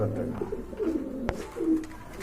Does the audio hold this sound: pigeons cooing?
yes